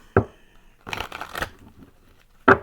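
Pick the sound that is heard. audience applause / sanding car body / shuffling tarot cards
shuffling tarot cards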